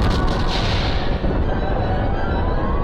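An explosion in an episode of the KonoSuba anime: a loud, dense, roaring blast that stays continuous and rumbling for several seconds with no talk over it.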